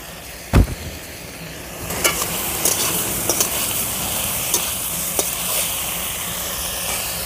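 Chopped green chillies hit hot oil in a pan with small mourala fish and mustard greens, giving a steady close sizzle broken by scattered stirring clicks and scrapes, with no talking.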